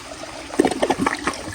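Water gurgles and trickles in a 1991 round Cisa toilet that is partly stuck in the trapway, a short, moderately loud run of bubbling sloshes with no voices.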